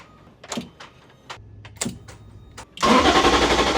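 A BMW S54 engine fitted in an E30 M3 cranks with a series of separate bursts, then catches into a loud, steady roar.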